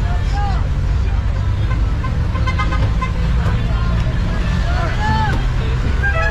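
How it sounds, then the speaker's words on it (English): A jeepney ride in the Philippines, with a constant loud rumble of the vehicle and road traffic all around, several horn toots and passing engines, and voices talking throughout. "Welcome to a jeepney ride here in the Philippines."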